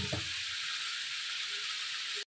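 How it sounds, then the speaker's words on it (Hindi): Milk hits kaleji (liver) masala on a hot tawa and sets off a loud, steady hiss of sizzling that holds evenly, with a brief splash at the start and a sudden cutoff near the end. "ये दूध मैंने इसमें डाल दिया, 1 कप डाल दिया मैंने दूध का।"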